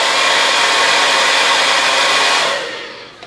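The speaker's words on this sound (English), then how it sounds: "So this is the Amika in the highest heat setting and highest speed." Amika blow dryer running on its highest heat and speed settings, a steady loud broadband whoosh holding evenly for about two and a half seconds before winding down at the end.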